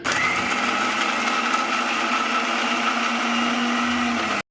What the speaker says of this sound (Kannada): ಇದನ್ನು ನೀರು ಹಾಕದೆ ನೀಟಾಗಿ ಸಣ್ಣ ಆಗೋವರೆಗೂ ಮಿಕ್ಸ್ ಮಾಡ್ಕೋಬೇಕು